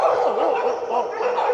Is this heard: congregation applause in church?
no